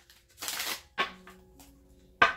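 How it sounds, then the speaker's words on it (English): Tarot cards being shuffled by hand, a few short riffling bursts separated by brief pauses, close and fairly quiet. "Okay, one more shuffle."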